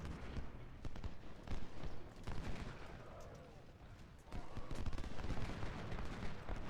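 Dense crackling musket volleys and scattered shots fill a Civil War battle at Chantilly in a video game, forming a continuous rolling din of gunfire with a brief dip before the firing intensifies again.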